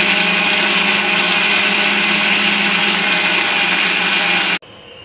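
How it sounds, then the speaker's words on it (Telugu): A mixer grinder blends vegetables and mint, with carrot and beetroot, into juice. The motor gives a loud, steady whir for about four and a half seconds, then cuts off abruptly, leaving near silence. "ఇలా బ్లెండ్ చేసుకోవాలి"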